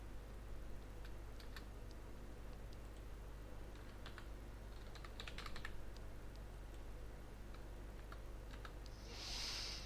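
Keys on a computer keyboard tap in scattered short bursts against a quiet room hum, with a brief hiss at the end.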